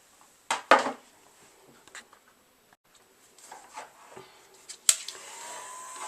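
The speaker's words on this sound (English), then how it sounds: "I've got my heat tool here." A heat embossing tool blows hot air over embossing powder on a stenciled craft background, a high whirring hiss that starts near the end after scattered handling clicks and taps.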